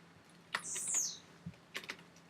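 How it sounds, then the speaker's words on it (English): A few quick, faint computer keyboard clicks come in small bursts as lyrics are typed into music notation software, alongside a brief high electronic chirp. "We could type into the window, and then we could click assign the notes."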